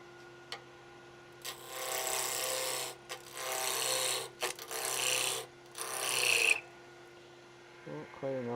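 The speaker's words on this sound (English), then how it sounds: "we use our skew to rough it down" Skew chisel roughing down a spinning wood blank on a lathe, scraping hiss in several sustained passes with short gaps, close over a steady motor hum, with a voice at the end.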